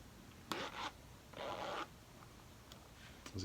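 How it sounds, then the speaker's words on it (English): Working zippers on a Planet of the Apes action figure's jacket give short, faint raspy zips: a quick pair of strokes, then one longer pull, with small ticks afterward. "right here we have these working zippers"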